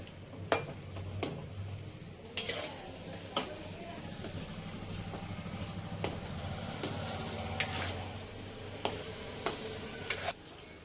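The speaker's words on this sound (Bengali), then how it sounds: "ঘি আর ডাল বাটার সাথে এইভাবে মিশিয়ে নিতে হবে।" A utensil stirs chana dal paste in ghee over a low flame for halwa, making soft, quiet scraping and light sizzling with scattered sharp clicks against the pan.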